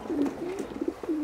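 A racing pigeon coos softly in a few low, rolling calls close by, a pale-chested champion-line bird being shown by a Romanian breeder.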